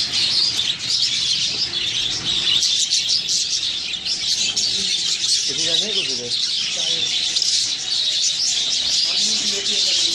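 A budgie chick in a breeding box chirps in a steady, high-pitched stream of close tweets, with a brief low voice in the middle.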